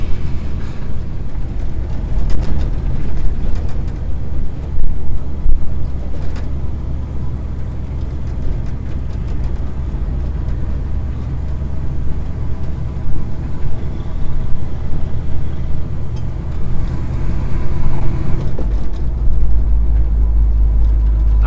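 A 1970 Chevy C10 truck engine runs while being driven, a loud, steady low rumble with a shaky, rattling texture and shifting load, ending in a sharp low thump.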